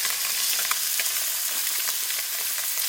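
Mutton snapper frying in a pan, a dense, bright, continuous sizzle with small pops and crackles throughout, steady and close, no voices.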